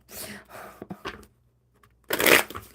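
Tarot cards are shuffled by hand during a live card reading, making crisp riffling and rustling bursts near the mic, a short pause, then a louder, denser riffle at the end.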